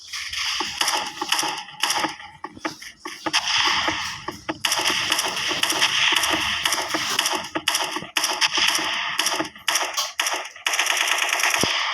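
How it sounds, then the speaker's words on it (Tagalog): Gatling gun fire in a video game, loud sustained bursts of rapid automatic shots that break off briefly and resume over about twelve seconds. "Kita nyo gatling eh."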